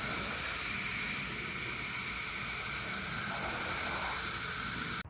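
30 Seconds outdoor cleaner sprayed onto a house fascia outdoors: a continuous, even hiss of pressurized spray runs steadily for several seconds, then cuts off abruptly at the end.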